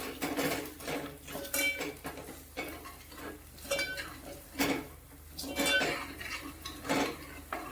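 Malvani fish masala being stirred in a pan: irregular metallic scrapes and clinks of a spoon against cookware, repeated in close, uneven bursts.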